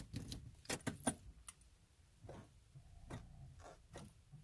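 Key turning and jangling in the ignition of a 2003 Kia Sorento with a bad starter; several close metallic clinks and rattles, with no cranking or engine sound following, in a quiet cabin.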